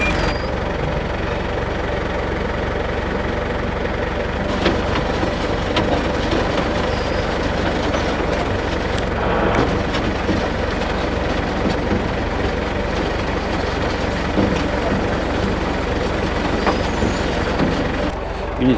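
A tractor engine ticks over with a steady low rumble throughout, slightly uneven, with faint clanks in the background.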